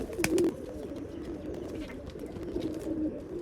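Rekdhar pigeons offered for sale at a home in Bangalore coo softly and repeatedly at close range, low throaty calls in a steady rhythm with small wing or shuffle sounds, and no talking.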